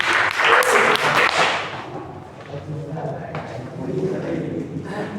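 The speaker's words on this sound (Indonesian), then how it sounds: "tepuk tangan untuk kelompok 2 atas penampilannya" Classroom applause for a student group after their presentation: a dense burst of clapping fills the first two seconds, then fades as voices talk over the room.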